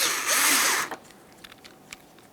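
A power driver runs in one loud burst, tightening the taillight mounting screws on a 1998-2002 Lincoln Navigator, then gives way to a few small clicks and taps.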